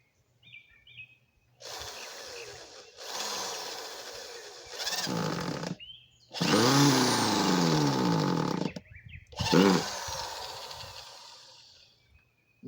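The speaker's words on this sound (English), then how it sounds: "let's put some screws in just to hold it in place" A power driver sinks screws into wood while building a heavy-duty stool, giving several close, loud whirring bursts whose pitch rises and strains, with short silent gaps between them.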